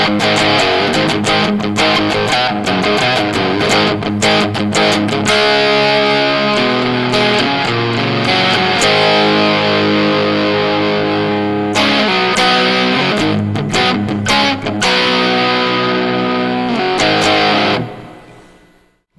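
Heavily distorted electric guitar through a high-gain amplifier, playing dense sustained chords and riffs loud and continuous, with brief breaks before the sound cuts out at the end.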